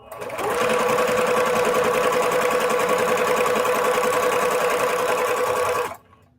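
A home sewing machine running a straight stitch at 2.5 stitch length with automatic tension, a steady close whirring hum that starts, holds for about five seconds, then stops.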